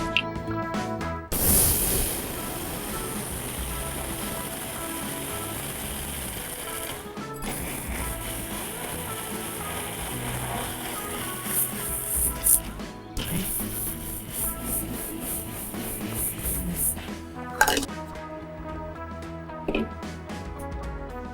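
A mixer grinder grinds black urad dal into powder, giving off a steady, loud motor whine with a rattling, gritty churn. It stops briefly a few times before running on.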